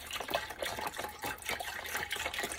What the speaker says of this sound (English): we're gonna do now is put the chicken broth in the pot